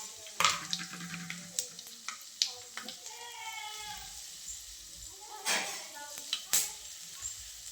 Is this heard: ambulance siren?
no